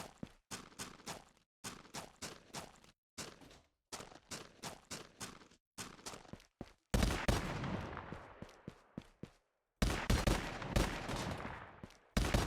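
Gunfire in an Unreal Engine 5 Call of Duty Zombies-style game comes in rapid bursts of close, sharp automatic shots separated by short pauses, with a couple of heavier, denser volleys near the end.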